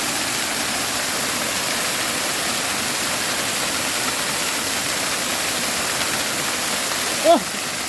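Steady, dense roar of rushing water from a waterfall fills the whole clip, with a brief rising whistle-like tone near the end.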